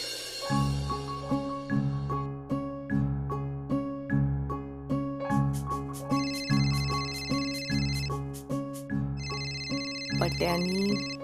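A mobile phone ringtone plays a repeating melodic pattern in regular bursts, clear and fairly close, with added chimes partway through.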